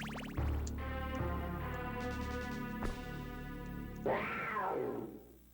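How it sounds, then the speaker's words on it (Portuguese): A Cerberus enemy in a SNES video game lets out a synthesized cat meow near the end, after a stretch of chiptune game music and effects. "só que ele faz barulho de gato."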